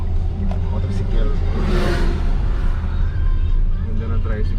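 A motorized tricycle passes along a road in Cagayan, in the far north of the Philippines: a steady engine drone with road rumble swells to its loudest midway, then eases off, while people talk throughout.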